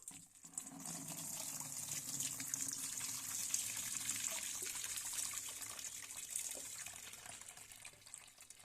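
Quiet trickling and gushing of water poured off soaked wheat grain from a container, a steady, faint liquid splash with small fluctuations in flow.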